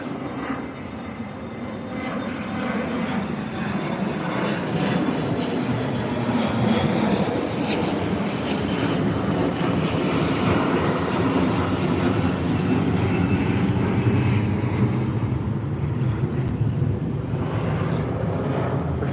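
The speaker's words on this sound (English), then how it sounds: "The sound the jets make is pretty cool" Big twin-engine American jet airliner passing over near Chicago O'Hare airport, a steady broad engine roar that swells slowly and holds loud throughout, with a faint high whine riding on top.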